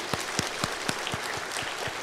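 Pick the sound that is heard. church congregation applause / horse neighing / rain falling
church congregation applause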